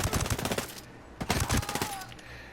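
Rapid automatic M4 assault rifle fire in the video game Ghost Recon Breakpoint: dense bursts of loud, fast cracks, a short pause near the middle, then another sustained burst.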